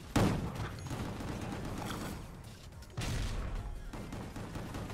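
Gunfire in a first-person shooter game, a dense distant barrage of shots and booms that swells in two waves, with no clear single reports.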